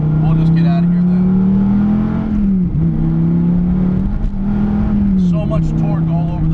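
A Dodge Viper T/A pulls away with a loud, steady V10 drone that rises and dips through gear changes, close by, with a voice speaking over the engine.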